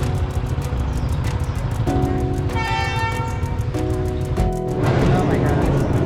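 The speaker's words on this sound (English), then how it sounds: "So you be carefully the train coming now." A train passing through Hanoi's Train Street in Vietnam, with a loud, close horn blaring in repeated blasts over heavy rumbling rail noise and crowd clamor.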